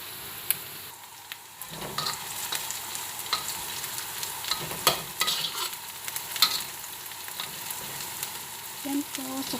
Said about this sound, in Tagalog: sautay po natin muna yung garlic at saka yung onion